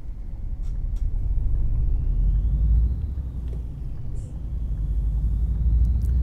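A Mercedes-Benz Agrar truck drives in Euro Truck Simulator 2, a steady low engine rumble with a slowly rising whine as it gathers speed, continuous and close.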